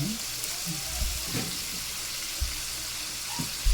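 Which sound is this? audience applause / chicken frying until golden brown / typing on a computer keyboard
chicken frying until golden brown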